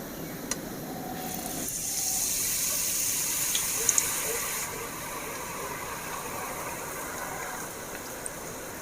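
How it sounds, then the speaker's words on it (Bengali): Green boondi batter droplets deep frying in hot oil, a steady broadband sizzle and bubbling that holds close and fairly loud throughout, with brief brighter crackles around the middle. "সবুজ কালারের বোঁদে ভেজে নেব।"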